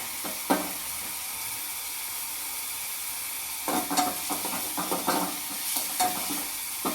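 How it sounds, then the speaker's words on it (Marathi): Crushed peanuts roasting in a pan on the stove, a quiet steady sizzle with a few scraping stirs of the spoon near the start and bursts of stirring in the second half, no talking. "आपल्याला शेंगदाणे भाजून घ्यायचे, म्हणजे आमटी एकदम चविष्ट लागते"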